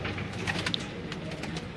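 Teddy pigeons for sale in Sialkot coo softly in a short, low, throaty burst over a steady background hum, with no talking.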